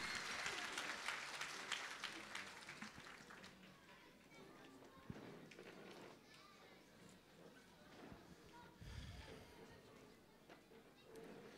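Applause from an audience at an iftar gathering as a minister is invited to the podium, faint and distant clapping that fades over time, with scattered noise and voices around it.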